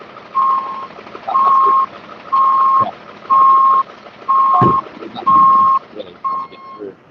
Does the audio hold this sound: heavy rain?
no